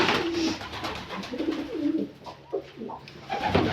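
Domestic pigeons kept in wire cages at home coo in low, throaty, repeated bursts, fairly close and clear, overlapping one another in an uneven rhythm.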